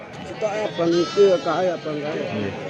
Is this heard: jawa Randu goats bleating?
yes